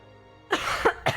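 A person coughs or clears their throat, one burst at about the midpoint followed by two shorter hacks, close and fairly loud, with no speech and near-silence before it.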